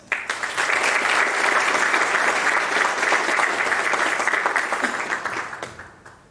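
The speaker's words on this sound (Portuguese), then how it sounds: "gostaríamos de contar com o carinho de todos vocês para que possamos aplaudi-los neste momento" Sustained, loud applause from an audience in Manhuaçu greeting the municipal mayor, dense crowd clapping that holds steady for about five seconds before tapering off.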